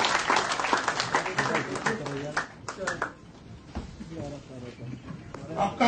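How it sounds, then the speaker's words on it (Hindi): Audience applause at a BJP political gathering in Jammu and Kashmir: dense clapping rises and falls throughout, heard under and between a man's amplified speech. "तालियां बजती रहनी चाहिए।"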